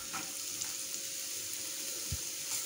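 Onion and green chili sizzle gently in a pan for a potato samosa filling, a faint, even frying hiss with a soft knock of the utensil partway through.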